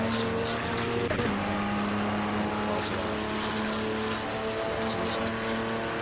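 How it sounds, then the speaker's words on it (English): Race car engines in the racing game Project Cars, a continuous loud engine drone with a steady whine and rumble, shifting slightly in pitch as cars pass, with no clear talking. "The cars sound much nicer in this than they do in"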